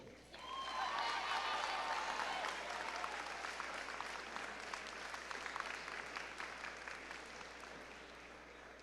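A high school audience at an annual honors awards assembly applauds students, sustained dense clapping from a crowd that holds steady and slowly thins over about nine seconds, heard from a distance in a large hall.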